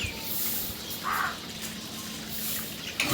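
Water running away in a steady, hissing rush outdoors at a home, moderately loud and continuous, with a brief brighter splash near the middle.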